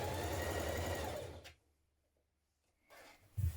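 Sewing machine stitching the side seams of a Liberty London frill dress, a steady close whir for about a second and a half, then a pause and a brief restart.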